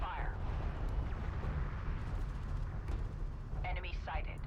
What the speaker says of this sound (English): Armored vehicle taking effective fire.